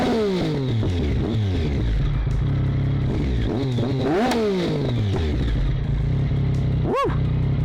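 A Triumph Speed Triple 1050 motorcycle engine revs loudly and close by, with repeated rising and falling throttle blips and one sharp high rev near the end.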